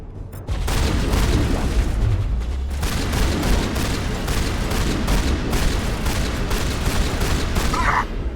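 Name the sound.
shotgun gunfire in Mass Effect video game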